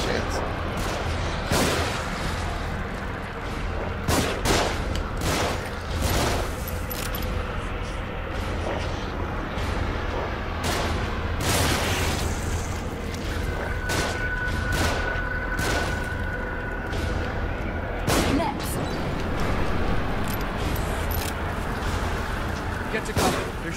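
Enemy gunfire in The Evil Within, with repeated sharp shots and heavy booms cracking out irregularly across the whole stretch over a dense rumbling game backdrop, while a voice talks throughout.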